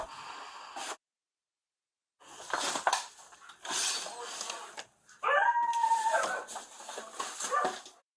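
Several dogs bark and whimper inside a filthy, apparently abandoned wing of a house, with loud yelps and whines coming in bursts around a gap of silence.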